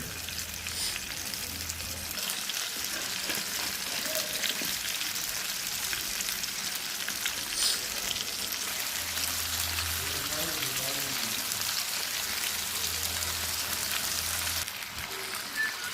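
Steady broadband sizzle of baila fish frying in hot oil, continuous and close, with faint talk in the background.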